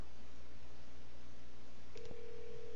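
Quiet room hiss, then a short beep and a steady electronic phone tone starting over an iPhone speakerphone near the end.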